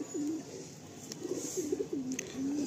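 A Madrasi pigeon coos close by in a series of soft, low, rolling calls repeated several times over a quiet, steady background hiss.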